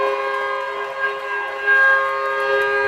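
End-of-game horn at a youth 14U girls' ice hockey game, a steady harmonic blare held for about three seconds in a reverberant rink, loud and continuous with slight swells.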